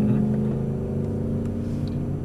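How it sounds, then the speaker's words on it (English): A supercar idles and begins to roll forward on a race track, a steady low engine drone with a faint whir, even and continuous with no talk. "So, foot off the brake now, Keith. The car's going to start rolling forward."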